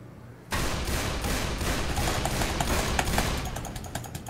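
Rapid gunfire in the zombie shooter Left 4 Dead 2, a fast, continuous run of loud shots beginning abruptly and rattling on for several seconds at a steady, driving rhythm.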